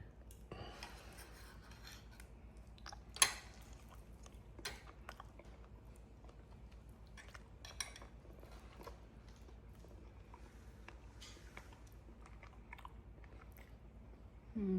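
Someone eats a ham dinner with pineapple, mashed potatoes and green beans, quiet scattered clicks and scrapes of cutlery with soft chewing, one sharper clink standing out early.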